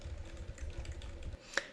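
Quiet, rapid keystrokes on a computer keyboard patter for over a second, then one sharper, louder key click lands near the end, close and alone.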